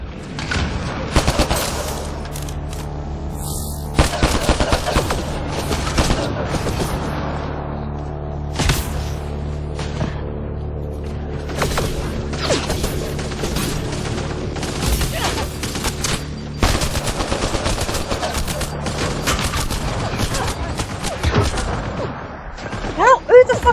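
Dense gunfire in the Mass Effect: Andromeda video game, rapid bursts and repeated sharp shots with booms, loud and nearly continuous, with voices calling out between the shots.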